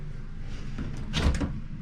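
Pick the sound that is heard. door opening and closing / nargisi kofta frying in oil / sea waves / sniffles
door opening and closing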